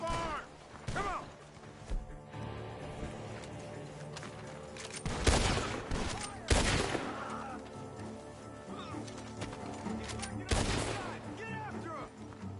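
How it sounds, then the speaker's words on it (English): Video game gunfire from a barn, several loud sharp shots and bursts spaced irregularly over a sustained bed of background sound and music, with voices shouting now and then. "The gunshots are coming from that barn."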